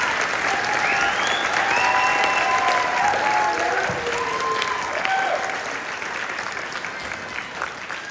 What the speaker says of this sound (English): One more round of applause for the kids,